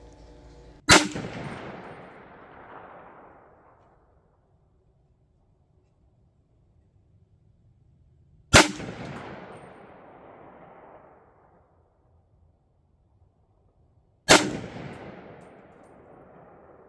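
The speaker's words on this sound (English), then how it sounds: "And now I shoot a little group on the right dot." Three loud rifle shots fired on a range while zeroing a CVLIFE Eagle Feather 4-16x44 scope, spaced several seconds apart, each a sharp crack with a long echoing decay into near silence.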